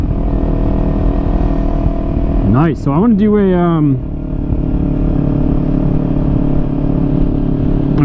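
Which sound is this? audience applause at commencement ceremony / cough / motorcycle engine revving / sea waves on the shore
motorcycle engine revving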